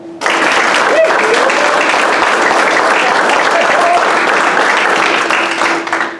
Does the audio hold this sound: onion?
no